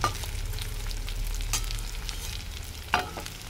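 Fritters made from foraged leaves fry in hot oil, giving a steady low sizzle, with a couple of sharp clinks as a piece is flipped in the pan.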